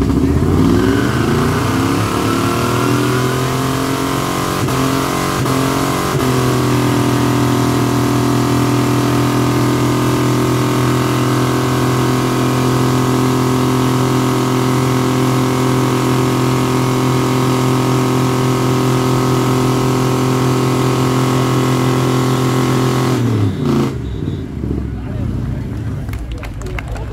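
A Chevy Silverado with a 5.7 LS engine revs hard at a burnout event, a loud, sustained low roar that climbs in pitch and holds high before cutting off abruptly near the end.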